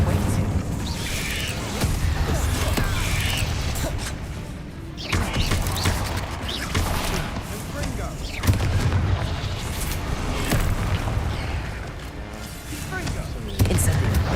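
Repeated spell blasts in Hogwarts Legacy combat, Confringo, Accio and Incendio, give a dense stretch of booming, crackling bursts and rumbling impacts. The bursts come in waves with brief dips between them, loud and close throughout.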